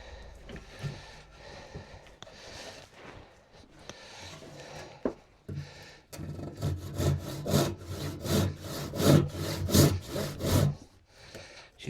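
Hand saw cutting through a glued wood workbench stretcher, a dull sound from the PVA glue line. Scattered scraping and handling noises come first, then about six seconds of loud, rhythmic back-and-forth strokes, close up and with no talk.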